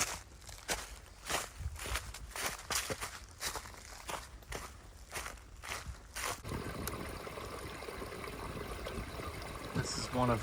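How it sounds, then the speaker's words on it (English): A running stream on the Appalachian Trail in Pennsylvania, near Duncannon, burbles steadily in the second half, preceded by a run of crunching footsteps on the trail. "This is one of very few running streams in Pennsylvania."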